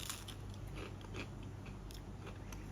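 Someone bites and chews into a thin, crunchy Aldi supermarket pizza with char and cherry-wood smoke from a Weber kettle barbecue, giving close, crisp crackling crunches in quick succession with no talking.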